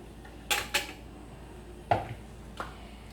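Utensils knock against a mixing bowl while flour is added for healthy breakfast muffins: two quick, close clinks, then two softer taps after a pause, with no voices.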